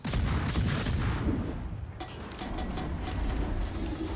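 Warship guns fire a few shots in a naval combat video game, with dull booming reports over a continuous rumbling background and no speech.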